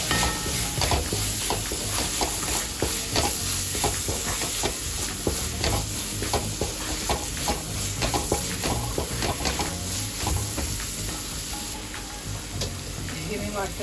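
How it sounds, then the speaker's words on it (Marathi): Red chili powder and garam masala are stirred in a hot sizzling pan for aloo matar. A loud, continuous sizzle runs throughout, with repeated scraping strokes of the stirring spoon. "त्याचा आपण चांगल्या प्रकारे ढवळून घेऊया।"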